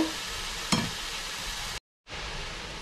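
Vegetables stirred and fried in a pan give a steady, close sizzle with one sharp utensil knock or scrape early on. The sizzle cuts out briefly near the end, then resumes.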